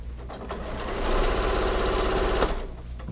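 A sewing machine runs steadily stitching long quilt seams, a close, even mechanical whirr that builds slightly, holds, then eases off and stops after a few seconds.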